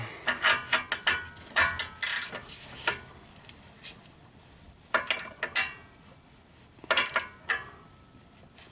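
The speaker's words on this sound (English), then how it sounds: "Put a wrench on here and snug her up." Metallic clicks and ratcheting from a wrench snugging an O2 sensor on the engine of a 1991 Chevy K1500 pickup, coming in several short bursts of clinks close to the microphone with quiet gaps between them.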